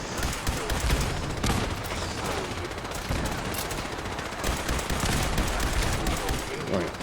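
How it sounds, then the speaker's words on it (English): Constant gunfire and explosions in the Fallout 4 Battle of Bunker Hill: a dense, continuous barrage of bursts and blasts, loud and unbroken for the whole stretch, with a faint voice underneath. "Just explosions going off everywhere."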